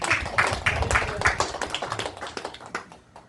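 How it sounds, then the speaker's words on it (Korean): A church revival congregation claps together for a pastor, a dense burst of hand claps that rises quickly, holds, then thins out and fades over a few seconds. "박수 한번 주세요."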